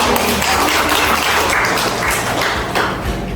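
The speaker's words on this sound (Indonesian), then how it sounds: "tepuk tangan Isan" A classroom group claps for a student named Isan, a dense, loud, continuous burst of applause held throughout.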